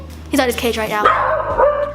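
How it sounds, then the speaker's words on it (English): A young dog barks and yips in the background of a home kitchen, a few sharp barks followed by a whining yelp, heard under someone talking. "you might hear barking."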